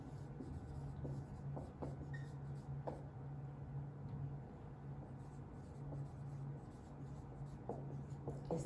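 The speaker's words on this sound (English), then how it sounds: "I'll write the smaller number" A pen writing numbers on paper gives faint, close scratching strokes in short bursts with brief pauses, quiet against a steady low hum.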